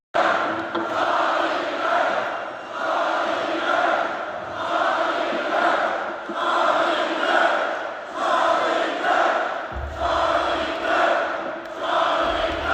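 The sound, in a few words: concert crowd cheering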